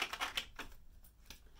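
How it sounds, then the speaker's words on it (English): Oracle and tarot cards being shuffled by hand, a few quick papery riffs and slaps close by, with short pauses between bursts and no talking. "So you don't want to watch the shuffling, you can fast forward a little bit"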